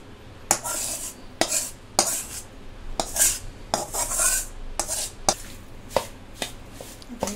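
Melted jaggery being stirred into a laddoo mixture in a pot, a spoon knocking and scraping the metal in repeated sharp strokes about every half second, close and fairly loud.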